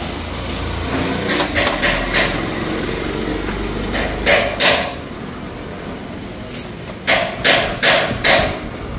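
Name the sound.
Yamaha Sniper 150 engine block scraping and knocking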